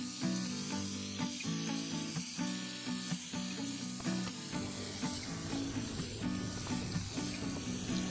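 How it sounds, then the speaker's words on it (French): Bacon lardons, onions and celery frying in fat for a beef bourguignon, giving a steady, close crackling sizzle throughout, with soft background music and no talking. "on va faire revenir les lardons, les oignons, le céleri et on laisse revenir tout ça"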